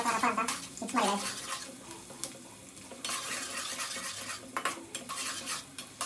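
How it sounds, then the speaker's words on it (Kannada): Onions tossed in plenty of oil in a pan, stirred briskly with a metal spoon: repeated scraping and clanking strokes over a soft sizzle, fairly faint and close. "ಈರುಳ್ಳಿ ಹಾಕೊಂಡು ರಪ ರಪ ರಪ ಅಂತ ಮಿಕ್ಸ್ ಮಾಡಿ ಗೈಸ್"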